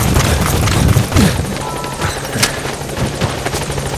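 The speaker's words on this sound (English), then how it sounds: "Helicopter has arrived." A helicopter's rotor whirs loudly and steadily in the video game Metal Gear Solid 5: The Phantom Pain, with scattered thumps and clatter mixed in.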